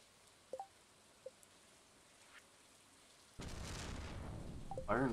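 A rainstorm in Stardew Valley: faint drizzle and a few soft ticks give way to a sudden heavy downpour with a rolling rumble of thunder, steady and loud to the end, with no voices.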